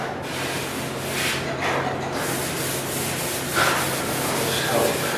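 A sanding block rubs back and forth over a dented spot on car paint, giving a steady, close, gritty scraping that continues for several seconds.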